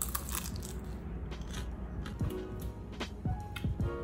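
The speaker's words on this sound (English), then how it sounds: "Let's see if you can hear the crunch as well." Crisp crunching bites into a flaky shou zhua bing Taiwanese pancake, several quick crackling crunches close up over a low background hum.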